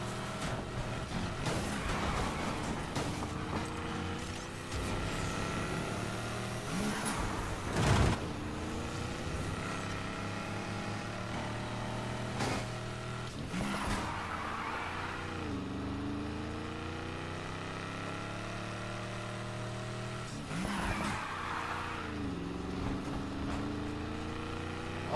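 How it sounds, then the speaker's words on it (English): Corvette engine in the racing game Need for Speed Heat, a steady droning engine note that rises and falls in pitch through gear shifts, running continuously at moderate level with no talking. "No, it's a Corvette."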